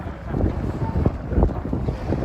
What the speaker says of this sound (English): Ooh, that's rather windy now. Hope you can hear me okay.